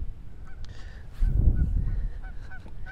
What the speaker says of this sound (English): it's that lonely duck from yesterday